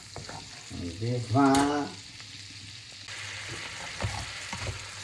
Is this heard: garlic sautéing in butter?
yes